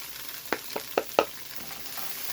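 Tofu browning in canola oil in a pan, a soft steady sizzle with four or five sharp taps of a utensil against the pan, close and alone.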